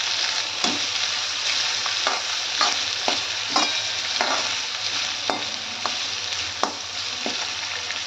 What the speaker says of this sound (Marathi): थोडंसं आपण कांदा आणि मिरची परतून घेणार आहोत